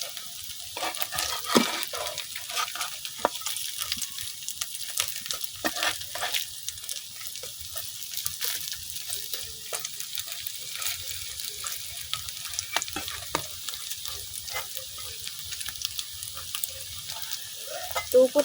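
Taro (kochu) fritters fry slowly in oil over a low flame, a soft continuous sizzle with scattered crackles and pops and occasional light stirring clicks, fairly quiet and close.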